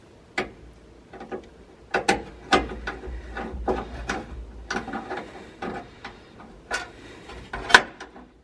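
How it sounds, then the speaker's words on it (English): Screws are backed out of a panel on a Crown Vic–swapped Ford F100 during an EFI install, giving scattered close ratcheting clicks and small metallic taps in short uneven bursts. "just gotta take these two screws out."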